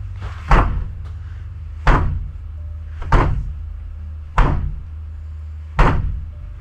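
A door is kicked repeatedly, five heavy thuds about a second and a quarter apart, each a loud impact with a short rattle, over a low background hum and no talking.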